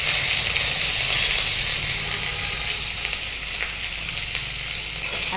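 Curry leaves, ginger and green chili frying in hot oil in a wok, a loud, steady crackling sizzle that holds dense and even throughout with no voices.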